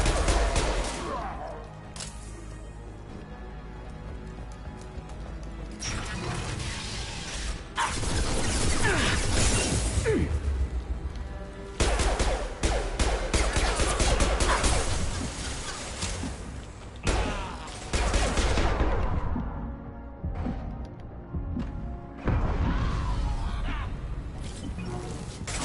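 Gunfire in a Mass Effect Legendary Edition battle: repeated loud bursts of shots and sharp impacts come in clusters separated by brief quieter gaps.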